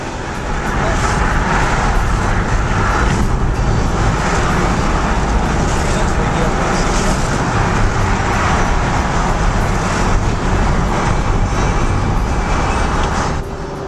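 Car interior road noise while driving, a loud steady rumble of tyres and engine with passing traffic, continuous throughout with no clear speech.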